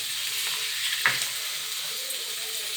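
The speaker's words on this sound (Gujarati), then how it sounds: "આપણે એને હલાવી દઈશું." Maggi-style noodle snack frying in a pan with spicy sweet sauce, a steady broadband sizzle with one brief scrape of stirring partway through, close and alone.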